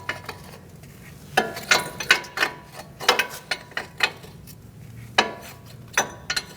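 An 18 mm wrench turns the axle nut on the front CV axle of a 2016-2019 Chevrolet Cruze 1.4L, giving close, irregular metallic clicks and ratcheting clacks at a steady working pace.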